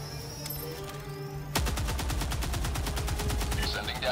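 After a quiet stretch, a rifle in Helldivers 2 opens up in a rapid, steady burst of loud, evenly spaced shots that keeps going to the end.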